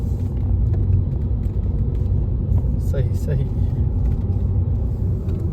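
Car driving along the winding Phondaghat–Radhanagari road to Kolhapur, a steady low engine and road rumble heard from inside the cabin, with people talking over it.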